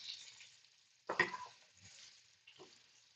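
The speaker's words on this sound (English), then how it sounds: "The short ribs 1 or 2 minutes on each side to brown, right?" Beef short ribs browning in a hot pan give a faint, soft sizzle with a sudden louder burst of spitting and crackle, then a few brief stirring or shifting sounds.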